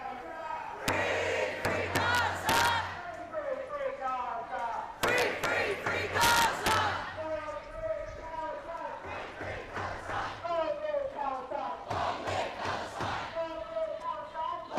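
Chanting and shouting from a sizeable protest crowd at a Sydney anti-Herzog rally, rising in loud surges several times over a constant murmur of voices.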